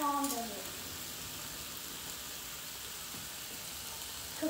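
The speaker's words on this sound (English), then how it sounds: "Cooking bacon." Bacon frying in a pan at home, a steady soft sizzle and crackle that fills the clip at moderate level, with a voice briefly heard at the start.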